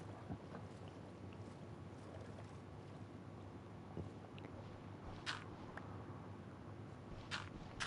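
A boat glides through water in the survival video game Reanimator, giving a steady rushing wash of water and wind noise with a few brief splashes, continuous and fairly close, with no talking.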